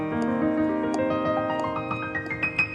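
A fast rising piano arpeggio played with the sustain pedal held down, the notes ringing into each other in a blended wash, heard alone and close.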